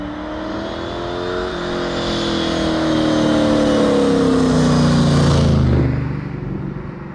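A Southern Roadcraft Cobra replica with a 4.1-litre Rover V8 accelerates hard, its engine note climbing steadily through the revs and growing louder before cutting back abruptly, with a throaty rumble underneath. No voices.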